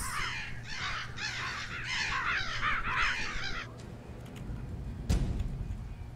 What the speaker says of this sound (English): Get out of my way, birds!